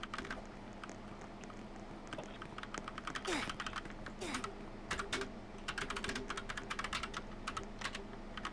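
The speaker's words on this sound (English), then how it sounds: "Oh wait, it's this guy typing." Rapid clicking keystrokes on a computer keyboard heard over a noisy voice-chat mic in Roblox, a steady uneven patter of typing that grows denser toward the end.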